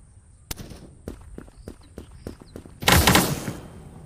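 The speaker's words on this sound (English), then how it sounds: "I hate rocket launchers." Gunfire and a heavy rocket launcher blast in the browser shooter Krunker: a series of sharp shots followed by one loud, broad explosion lasting about a second.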